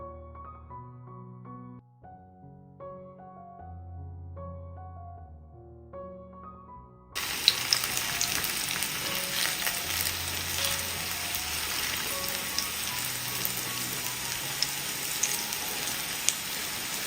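A snack frying in ghee on a pan, with a steady crackling sizzle and scattered pops that start suddenly after several seconds of soft music and then hold at a constant level.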